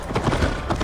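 Hooves of a horse in the Assassin's Creed video game, a quick rhythmic run of clip-clop beats, loud and close over a low rumble.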